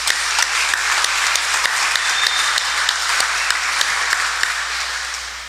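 Congregation applause at a church Mass, a steady, fairly loud round of clapping from many hands that holds evenly for several seconds before easing off slightly at the end.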